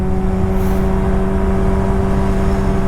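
A steady loud engine drone from a 2001 Suzuki Hayabusa GSX1300R under way in second gear, holding an even tone with heavy wind noise.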